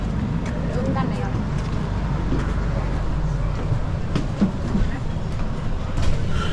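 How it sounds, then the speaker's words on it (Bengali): Riding a tram in Helsinki: a steady low rumble of the car rolling along with light rattles and clicks, and murmuring voices in the background. "ট্রামে উঠে পড়লাম"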